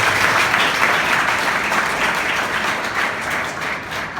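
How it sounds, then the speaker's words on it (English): An audience at a certificate ceremony for newly trained environmental inspectors claps loudly and continuously, a dense wash of applause that tapers slightly toward the end, with no speech. "So give yourself a round of applause."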